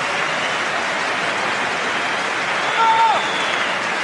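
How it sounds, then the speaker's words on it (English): A football crowd at Stamford Bridge applauds during a Chelsea versus Everton Premier League match, a broad, steady wash of distant clapping from the stands with a brief swell near the end. "he takes applause here from all 4 sides of Stamford Bridge."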